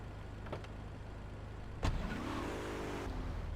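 A Mafia Sentinel car in GTA3: after a short clunk, the engine roars up and holds a rising, steady rev, fairly quiet and alone.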